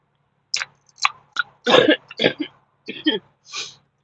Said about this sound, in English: Excuse the coughing.